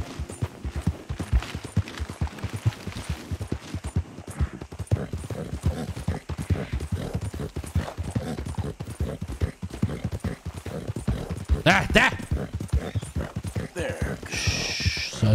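Horse hooves in Red Dead Redemption 2 clatter in a steady galloping clip-clop throughout, close and loud, with a brief whinny-like burst near the end over game sound.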